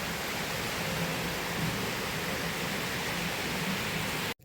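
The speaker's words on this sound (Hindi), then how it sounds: "आज बहुत तेज़ बारिश हो रही है," Heavy rain pours steadily as a dense, even roar of broadband hiss with no breaks, close and loud, cutting off abruptly at the very end.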